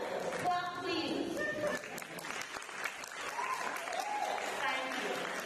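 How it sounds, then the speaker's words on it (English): Swimmers and guests at a St Lucia aquatics awards ceremony applaud their sponsors, a steady patter of clapping at middling volume with voices calling and chatting underneath throughout. "Yes, let's clap our sponsors, please."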